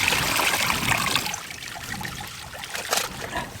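Water trickles and splashes out of a field drainage tile, a close, steady dribbling gurgle with small irregular splashes.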